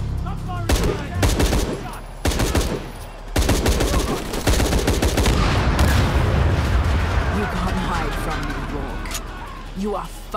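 Gunfire in the video game Shadow of the Tomb Raider: loud bursts of rapid shots and booms cluster early, then give way to a dense rumbling clatter of battle noise, with talking over the top.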